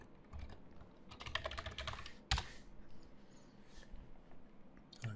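Typing on a computer keyboard, a close, quiet run of irregular key clicks in short bursts, with one sharper tap partway through and no talking.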